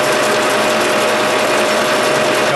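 A milling machine faces off a small metal part, its spindle and cutter giving a continuous, loud, gear-like mechanical whir with a rapid ratcheting texture and no pauses.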